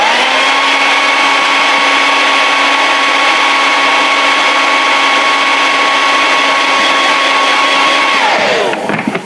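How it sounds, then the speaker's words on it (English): A hair dryer blowing steadily on a 1/6 scale vinyl figure kit, a loud close whine and rush of air with a constant motor tone that winds down as it is switched off at the end. "So we're gonna let this hit this with a hair dryer, see what it looks like."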